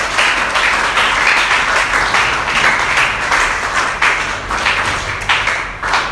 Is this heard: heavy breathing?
no